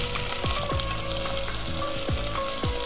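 Onion frying in a pan for senagalu pulusu, a Telugu chickpea curry, giving a steady loud sizzle with a few faint scraping stirs, and no talk.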